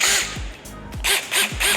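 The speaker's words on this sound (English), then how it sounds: "the drill bit is tightened in the drill" A DEWALT power drill whirs in short bursts, revving up and down repeatedly as the chuck spins and grips a bit.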